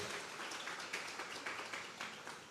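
A church congregation at a Sunday morning service applauds as an offering of praise, producing a steady, dense wash of many hands clapping that continues throughout without a break.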